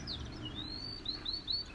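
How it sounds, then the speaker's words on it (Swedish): Small birds chirp in trees on a warm Gran Canaria street, thin high tweets and short sliding calls coming in a quick scattered series over a low, faint outdoor background hum. "Här är det fågelliv. I träden. Fullt."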